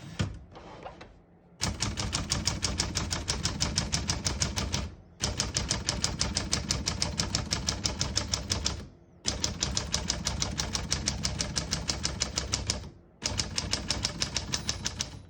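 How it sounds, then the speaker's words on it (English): Rapid, steady typing on a 1940 Corona Standard portable typewriter: long runs of sharp, close key strikes, broken by three brief pauses, with no voices. "We're going to keep that on single for now and finish typing."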